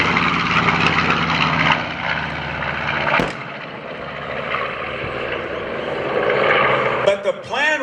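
A North American B-25 Mitchell bomber's propeller engines drone steadily at an air show, a broad loud roar with a sharp transient midway and shifting tones near the end, heard under some background speech.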